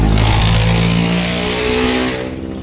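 A repaired e-bike's electric motor runs under throttle with a steady, loud whirring whine that holds a tone and then eases off near the end, with no voices over it.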